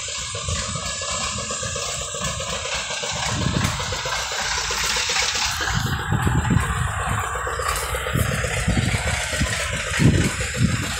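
A diesel generator engine runs steadily at a house without mains electricity, a rough continuous rumble with uneven bursts, no talk over it.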